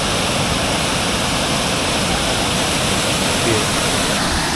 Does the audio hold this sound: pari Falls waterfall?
yes